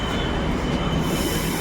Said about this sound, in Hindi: तो भाई आम मेट्रो आसीगला